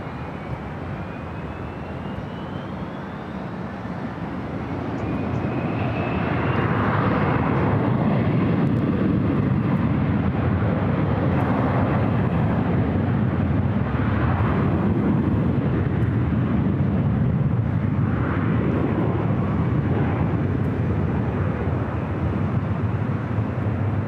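An airliner takes off at LAX, its jet roar swelling after a few seconds into a loud, sustained broadband rumble that holds steady to the end.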